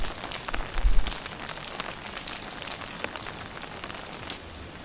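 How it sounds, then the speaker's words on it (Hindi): Heavy rain falls steadily outdoors on a cold morning, a dense, even hiss of drops on surfaces with a brief low rumble near the start, no voices. "सुबह से ये आप देख सकते हैं ज़बरदस्त वाली जी बारिश हो रही है"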